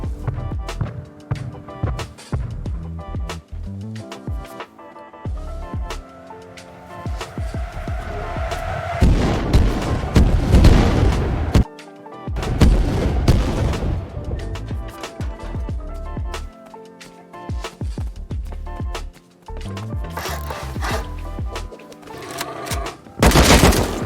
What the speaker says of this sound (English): I heard the MLRS getting fired